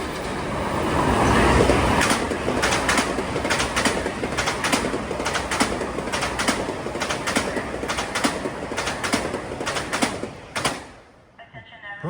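A Metro-North New Haven Line train, Grand Central to New Haven, rolls past near Greenwich, Connecticut: loud continuous rumble with rapid rhythmic wheel clatter over rail joints, fading out abruptly near the end.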